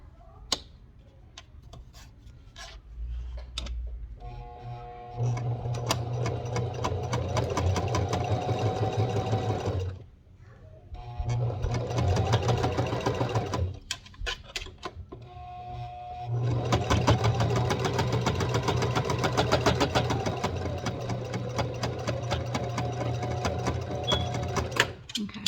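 A sewing machine stitches fabric for a sugar glider tunnel, running in three long whirring, rhythmic bursts separated by brief pauses, close and clear with no talk.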